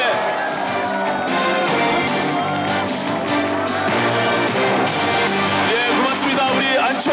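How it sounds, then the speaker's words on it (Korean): A crowd welcomes Ahn Cheol-soo to a Seoul mayoral campaign announcement with loud, sustained applause and cheering. The clapping is continuous, with scattered whoops and shouts in a busy indoor hall. "모두 큰 박수로 환영해 주시기 바랍니다"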